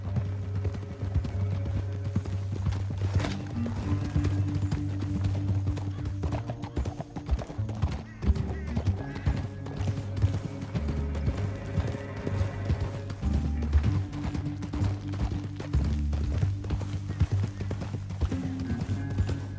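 Horse hooves pound in a fast, continuous galloping rhythm for a long stretch in Red Dead Redemption 2, with a low steady rumble beneath.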